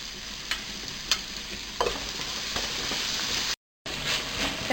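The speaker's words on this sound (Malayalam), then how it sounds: "നമ്മൾ അരിഞ്ഞ് വെച്ചിരിക്കുന്ന ഉള്ളി അതിലേക്കിട്ട് വഴറ്റിയെടുക്കാം" Chopped onions sauté in a hot pan for Kozhikode-style chicken biryani, giving a steady close sizzle broken by a few stirring scrapes and one brief dropout.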